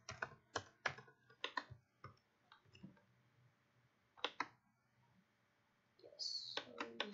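Keys tap on a computer keyboard in short irregular clusters, close and crisp, with a brief voice near the end.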